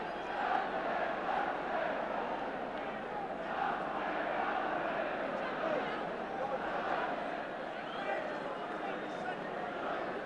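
Football stadium crowd at a Leeds United match, a broad continuous roar of many voices swelling and holding at a steady loud level, heard from a distance.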